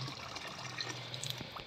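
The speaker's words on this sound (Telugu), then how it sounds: "సో నీళ్ళు అయితే పోసేస్తున్నా చూడండి ఫ్రెండ్స్" Water is poured out into a small container for animals, a soft, continuous splashing trickle heard faintly and alone for under two seconds.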